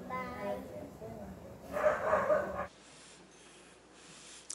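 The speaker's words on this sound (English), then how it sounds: "I like the accompaniment in the back, the barking." A dog barks and snorts in the background during a Sunday church service, several short excited yaps mixed with voices before the room falls quieter.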